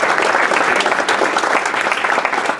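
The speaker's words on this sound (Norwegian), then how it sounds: "Det fortjener også en applaus." An audience applauds volunteers at a Norwegian football awards event, a loud, continuous roar of clapping hands filling the room with a few sharper claps standing out.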